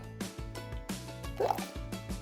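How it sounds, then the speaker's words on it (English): Boiling water poured from a kettle into a measuring container on a kitchen scale: a brief, faint series of soft splashes and plops with small gaps between them, heard close and alone. "you are gonna take 80 grams of boiling water"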